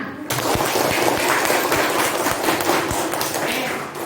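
Schoolchildren in a classroom break into quick, dense clapping that starts abruptly and stays busy and rattling throughout, close and fairly loud, tapering slightly at the end.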